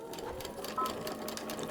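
A sewing machine runs a short burst of rapid stitches across a paper-pieced quilt block, locking the seam with an even, close mechanical patter.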